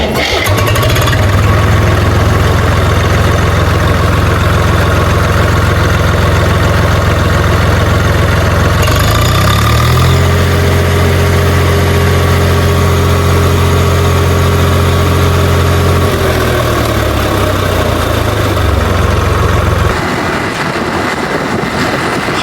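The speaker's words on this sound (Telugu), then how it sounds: "మోటార్ అయితే ఫిట్ చేసినాం. ఇప్పుడు బండి అయితే స్టార్ట్ చేద్దాం." A vehicle engine, just fitted with a motor, runs loud and close with a steady low idle that shifts pitch partway through and then drops back, with no one talking.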